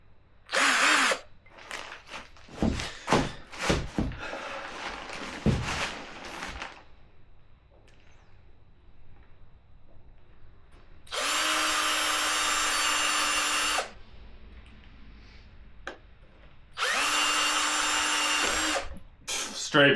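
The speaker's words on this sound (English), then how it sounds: "So I'm just gonna have to drill it a little bit on the sides" A power drill bores through a motorcycle LED tail light housing on a ZX-12R project bike, running in several short, loud bursts with quieter handling noises between them.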